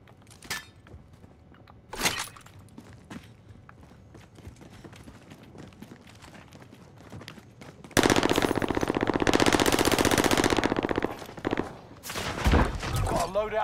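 Gunfire in Call of Duty: scattered single shots early on, then a long loud sustained burst of automatic fire followed by more bursts, heard with game audio and occasional voices in the background.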